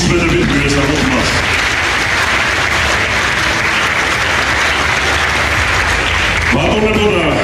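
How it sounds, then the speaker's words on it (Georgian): Audience in a hall breaking into loud, sustained applause to welcome a famous athlete, dense clapping filling the room for several seconds with some voices mixed in. "აპლოდისმენტებით მივესალმოთ მას"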